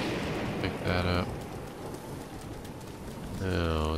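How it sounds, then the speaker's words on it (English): Rain falls in The Legend of Zelda: Breath of the Wild, a constant patter of drops with low rumbling, while a voice speaks briefly at the start and again near the end. "Now it's gonna rain for quite some time."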